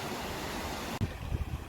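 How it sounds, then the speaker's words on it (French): A waterfall in Coyote Gulch rushes as a steady, full roar. Midway it breaks into a few dull, low thumps near the microphone. "On arrive au point de la cascade numéro 1."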